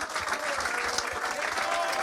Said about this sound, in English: you should rightly take the applause for it